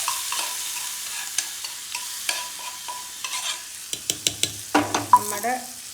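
Mustard seeds, dried red chillies and curry leaves crackle and sizzle in hot oil for a tempering on a Kerala lentil curry, sharp popping bursts quickening near the end amid stirring.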